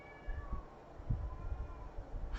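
A cat meows a few times outdoors, somewhat distant, over a steady background hum.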